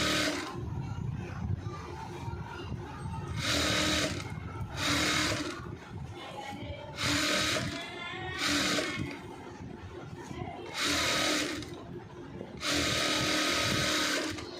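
A household sewing machine runs in several short bursts with pauses between them while double-stitching the sleeves of a koti jacket, each run a rapid, fairly close rattle.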